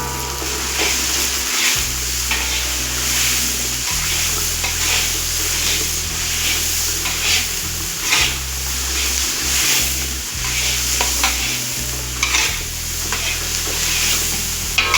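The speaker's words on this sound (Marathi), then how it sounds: "आता आपण पोह्याला फोडणी टाकू जिरी कांदा मिरची कढीपत्ता पुदिना" Cumin, onion, chilli, curry leaves and mint frying for a poha tempering in a large batch for hundreds of people: steady loud sizzling and crackling with continual stirring scrapes and a low rumbling burner hum underneath.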